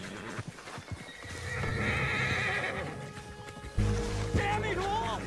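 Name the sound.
horse neighing in video game Red Dead Redemption 2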